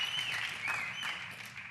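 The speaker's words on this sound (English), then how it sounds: "Y'all can clap for that." Audience applause filling a hall at a motivational seminar, a dense continuous wash of many hands clapping, fairly loud and sustained throughout with no voices standing out.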